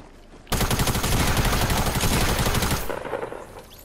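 Rapid, sustained automatic gunfire from the Fortnite video game erupts suddenly and rattles loudly and densely for over two seconds before cutting off and fading.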